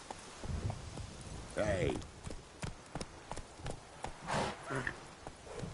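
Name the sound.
horse hooves in video game The Witcher 3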